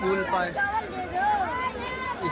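A large crowd of pilgrims on the Panchkosh Yatra in Varanasi, with dense overlapping voices and shuffling footsteps close by and continuous babble throughout.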